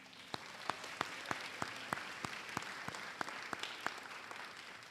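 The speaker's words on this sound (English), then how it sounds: "I think you all deserve a round of applause." Faint, sparse applause from an alumni gathering audience, a thin steady patter with a dozen distinct sharper claps spaced irregularly, heard at a distance.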